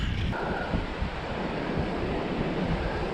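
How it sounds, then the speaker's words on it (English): Strong gusty wind buffeting the microphone on a lake shore in Michigan's Upper Peninsula during smallmouth bass fishing, a loud continuous roar with no breaks and no talk. "Oh, the wind's a little crazy out here today, Bob."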